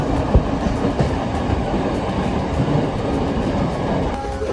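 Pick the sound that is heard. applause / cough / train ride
train ride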